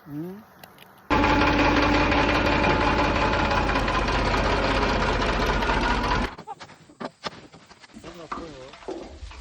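A turmeric boiling machine's engine starts up loud and steady, a dense rumbling drone close by for about five seconds before cutting off, with voices and faint birds around it.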